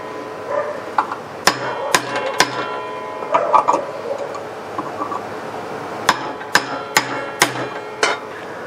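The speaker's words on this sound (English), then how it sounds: "Hammering on this punch, you'll hear a different sound, a rock solid sound" Sharp metallic hammer strikes on a blunt point metal punch, replacing a bearing on a 12-inch DeWalt miter saw, ring out, a few quick blows early on and then a steady series of about five evenly spaced hits, close and loud.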